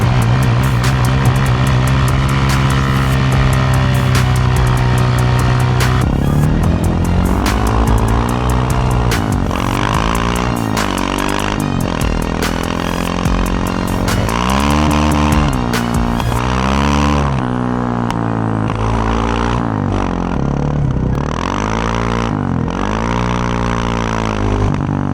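Raptor 700R, LTZ400 and Honda TRX700xx ATVs rev loudly and continuously, with engine pitch repeatedly climbing and dropping as throttle is blipped, close up with no speech.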